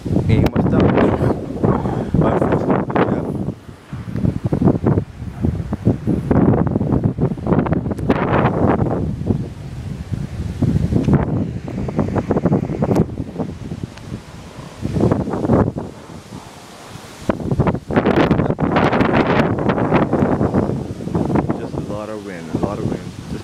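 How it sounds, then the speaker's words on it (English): Strong hurricane wind in the Bahamas roars and buffets the microphone in heavy gusts, loud and continuous with brief lulls, while someone talks intermittently over it in a residential neighborhood. "A lot of wind."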